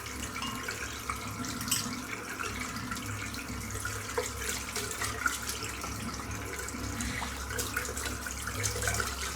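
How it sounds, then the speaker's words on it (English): Water runs steadily from a tap as a shaving brush is rinsed under it, making a continuous close splashing rush with no talking. "I'm just going to rinse my brush out now."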